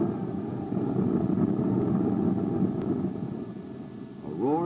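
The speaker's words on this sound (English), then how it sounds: "roar of jet engines" Steady loud roar of aircraft engines at a desert flight test base, a continuous broadband rumble that swells and holds, with a rising whine near the end.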